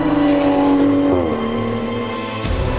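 Subaru STI rallycross race cars scream through the final lap of a race, engines loud and close with pitch dropping as gears shift and one car roars past, with no voices.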